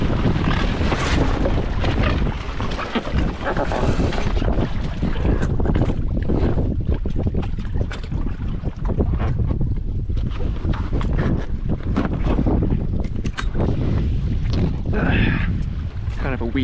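A small Hobie sailboat tacks through the wind, with steady rushing wind buffeting and water wash close by, broken by a few brief knocks and rustles of gear.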